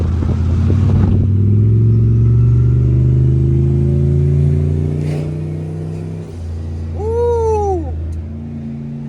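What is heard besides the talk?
700HP turbo junkyard truck engine hauling a flatbed with a BMW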